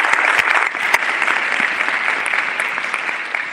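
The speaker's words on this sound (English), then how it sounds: "if we could give Dr. Foster another big round of applause" Audience applause for Dr. Foster at a Huntsville Black History program, a sustained, fairly loud round of clapping from a large crowd, evenly spread with no talk.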